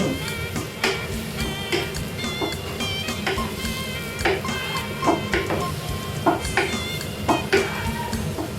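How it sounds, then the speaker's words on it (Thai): Winter melon and egg stir-fried in a pan: a steady sizzle beneath repeated scraping clacks of a spatula against the metal, close and lively with no talk. "ผัดให้ฟักนิ่มนะคะ"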